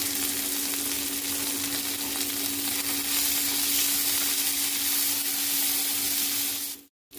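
Green chilies and tomato fry in a pan for a village-style chicken liver fry, giving a steady close sizzle and hiss throughout that cuts off abruptly near the end.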